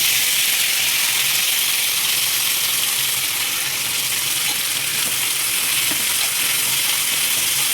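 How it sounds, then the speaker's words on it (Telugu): Onion, tomato and masala frying in oil for a stuffed brinjal curry, a loud, dense, continuous sizzle and hiss close up, with no voices. "పావున్నర నూనె పోసుకొని వేయించుకోవాలి అన్నీ"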